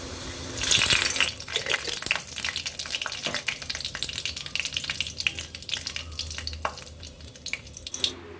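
Panch phoron and dried chilies hit hot mustard oil in a pan, a loud burst of sizzling that settles into steady crackling frying with stirring scrapes, continuous and close, no talk.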